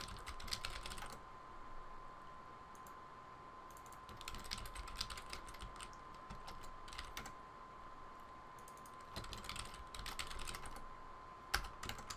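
Bursts of keyboard typing, quick clicking keystrokes in clusters separated by short pauses, fairly quiet over a steady low background hum.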